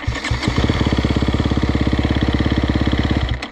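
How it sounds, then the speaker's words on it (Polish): A KTM SXF 250 four-stroke dirt bike fires up in a short burst and settles into a fast, even, close idle with a steady rapid pulse that cuts off abruptly at the end. "Odpala bez najmniejszego problemu."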